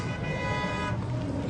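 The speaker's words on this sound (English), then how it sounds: "Honk your horns!" A car horn sounds a steady, sustained tone for under a second at a Halloween zombie walk in town, surrounded by dense street and crowd noise.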